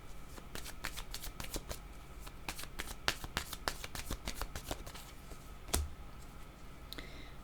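Tarot cards being shuffled and drawn, a quick series of crisp papery flicks and clicks in irregular bursts, close and fairly quiet, with one sharper snap near the end.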